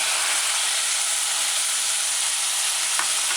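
Chopped tomatoes dropped onto sautéing onions in a pan set off a loud, even sizzle that stays steady and close throughout, with one faint clink near the end.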